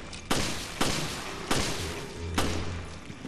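Gunfire in the video game Resident Evil Revelations: four loud, sharp shots spaced roughly a second apart, each with a short booming tail, and no talk over them.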